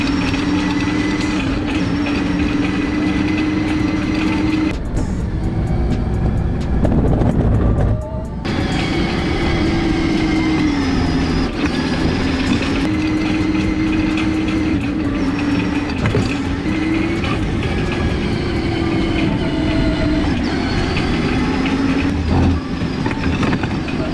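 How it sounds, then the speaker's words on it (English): A kids' Power Wheels truck upgraded with a drill battery drives while towing a load, giving a continuous loud whine and rumble of motor and gears with rattling over rough ground and a brief dip midway. "look how good this truck is towing this thing now"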